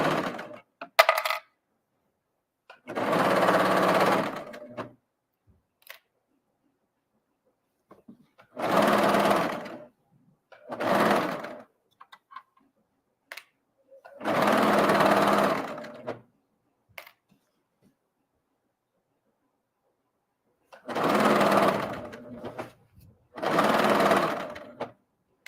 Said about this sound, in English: I also have 2 different types of fabric that I'm serging together